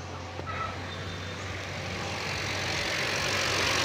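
A 2024 Kia Sonet engine idling just after being started, a steady low hum with a faint rising drone and no talk over it.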